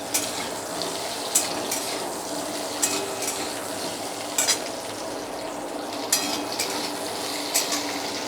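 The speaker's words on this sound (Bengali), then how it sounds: "ওই তেলেই আমি আলু ভেজে দিচ্ছি" Potatoes fry in oil that was used earlier in the cooking, giving a steady sizzle close by, with occasional sharp clinks of a utensil stirring against the pan.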